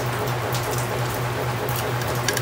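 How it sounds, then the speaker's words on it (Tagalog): Steady rain falls continuously with a dense, even hiss and scattered pattering drops, with a constant low hum underneath and no voices. "Umuulan na naman."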